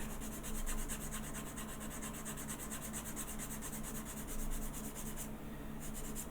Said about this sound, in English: Just give it a good old sanding.